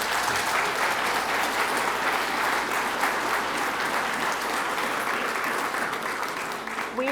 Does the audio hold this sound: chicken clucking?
no